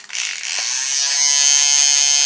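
A Knit Picks electric lint shaver for knitwear switches on and settles into a steady, high-pitched motor whine, close and loud, rising slightly as it runs, with no one talking.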